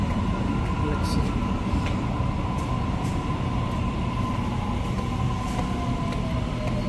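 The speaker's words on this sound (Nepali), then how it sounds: "भर्खरै ट्रेन आयो" A Sydney light rail train rolls into a station with a loud, steady low rumble and faint metallic squeal, the drone filling the whole stretch.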